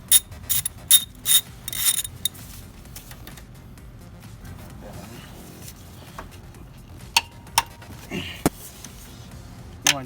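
A ratchet clicks in quick bursts while loosening the ground strap bolt on an Acura TSX during a passenger-side motor mount job. The clicking is loudest early on, with scattered lighter clicks and metallic clinks later, and there is no talking.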